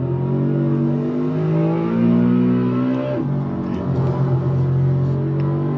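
BMW E92 coupe engine pulling hard on a Nürburgring lap, a loud steady in-car drone rising in pitch, then a brief shift and a renewed climb, with no voices.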